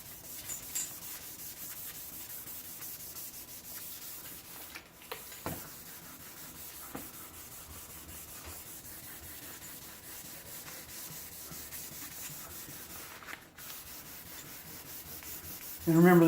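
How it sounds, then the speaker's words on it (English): Steady rubbing of fine grit sandpaper on a painted panel, soft and continuous with a few light knocks, close by and mostly without talk. "It's a fine grit, and we're doing a lot of sanding with it."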